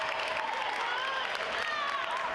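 Fans cheer from the sidelines at an away girls' basketball game. A steady wash of crowd noise and clapping runs throughout, with shrill shouts rising over it.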